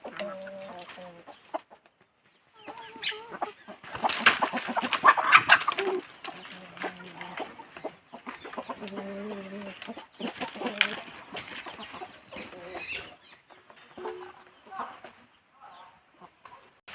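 Intermittent chicken clucks come and go over quiet background noise, with some brief talking and clatter in between.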